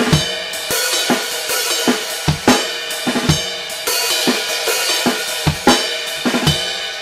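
A full drum kit plays a steady groove, kick and snare alternating under constant cymbal wash, with evenly spaced accents across several bars.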